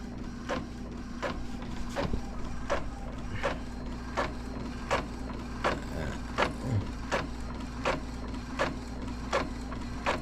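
A faulty 3-in-1 printer with a bad print head making a photocopy, running as a steady mechanical hum with a regular train of sharp clicking ticks roughly every half second throughout.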